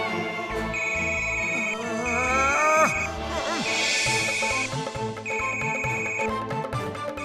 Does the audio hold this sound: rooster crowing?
no